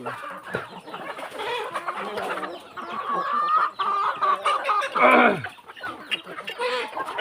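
Burmese fighting chickens cluck and chatter in quick, overlapping bursts at close range, with one louder squawk toward the end.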